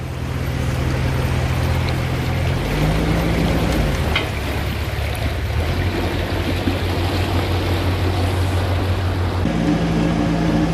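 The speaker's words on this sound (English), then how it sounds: "I thought he was pranking us, but there is a boat coming." A motorboat engine drones loudly and shifts pitch as it speeds past, with water rushing steadily underneath.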